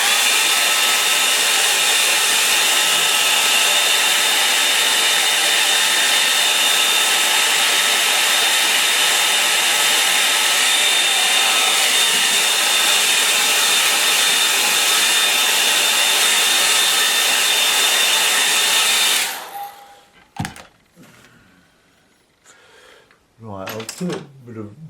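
A hair dryer drying a watercolour painting, a loud, steady blowing whir held close for about nineteen seconds before it cuts off, followed by faint handling sounds.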